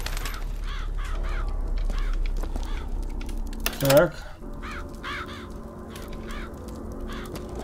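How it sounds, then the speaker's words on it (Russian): Crows in the Bioshock Infinite video game, repeated raspy caws in short bursts over a low background hum, with a brief louder clatter midway and a voice speaking once. "Хорошие вороны."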